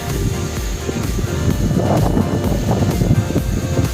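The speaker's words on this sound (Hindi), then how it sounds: "बड़ी ज़बरदस्त हवा चल पड़ी है अभी" Strong cold wind blowing through a village during stormy weather, a loud continuous rushing roar buffeting the microphone, steady and close, without speech.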